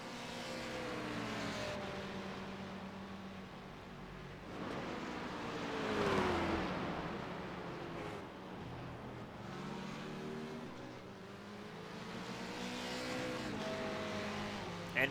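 GT3 race cars, a Ford and a Ferrari, roar past during a sports car race, engines rising and falling through gear changes as they pass at a distance, with faint commentary beneath.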